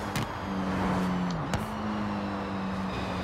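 A drag-tuned 1974 Toyota Corolla in Forza Horizon 4 lets off the throttle, and its engine drone drops in pitch with a brief pop partway through before the revs settle into a steady hum.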